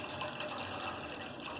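Water poured steadily into a cooking pot to make stock for beef biryani, a continuous close splashing and filling rush with no one talking.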